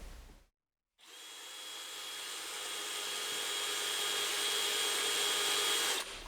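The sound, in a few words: power drill countersinking wooden honey super box sides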